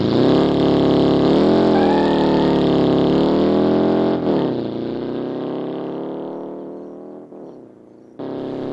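Car engine in BeamNG.drive revving hard for a launch, a loud sustained roar that climbs in pitch, then drops away and fades as the revs fall, ending with a brief burst of noise.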